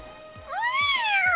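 A video game cat from Hyperdimension Neptunia Re;Birth2 gives a single clear, rising-then-falling meow, loud and close, with no talking over it.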